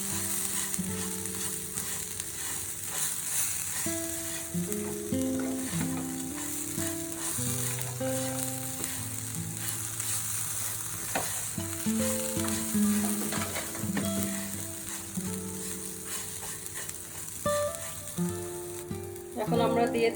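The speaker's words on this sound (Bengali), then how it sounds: "নারকেলটা দিয়ে একটু ভাজতে হবে।" Grated coconut fries in a pan for vermicelli laddu, a soft steady sizzle running throughout with occasional light clinks and scrapes of stirring, close and unaccompanied by speech.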